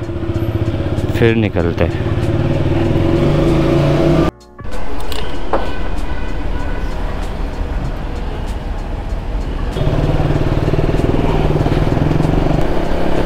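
A KTM Duke 200 motorcycle engine runs at a steady idle close by. The drone is loud and continuous, drops out briefly once, and someone talks over it throughout.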